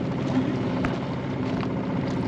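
A portable washing machine drum spins on rinse cycle off grid, giving a steady, fairly quiet motor hum with a few small knocks and no voices.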